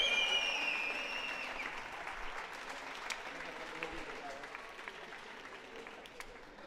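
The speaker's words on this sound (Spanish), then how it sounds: "Un aplauso." An audience at a national foosball championship breaks into applause, starting fairly strong and gradually thinning into scattered claps that trail off, heard at a moderate distance.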